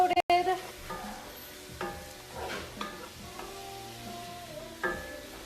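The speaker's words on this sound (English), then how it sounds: "we're gonna keep cooking this until the steak is fully cooked" Steak pieces coated in cumin, chili powder, garlic powder, salt and pepper sizzle in a pan, with soft, intermittent stirring scrapes over a low, steady frying hiss, heard close and fairly quiet.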